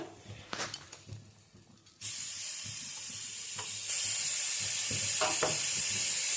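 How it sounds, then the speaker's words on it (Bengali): Onions frying slowly over a low flame for oil-free chicken, a steady soft sizzle and hiss that grows louder partway through, with a few faint clinks of stirring early on. "পেঁয়াজটা ভাজতে একটু টাইম লাগবে। লো ফ্লেমে আস্তে আস্তে এটাকে ভাজতে হবে"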